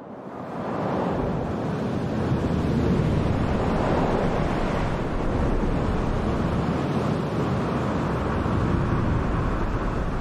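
Heavy, rough surf churns loudly and continuously, with wind buffeting the microphone and a constant roar of crashing water.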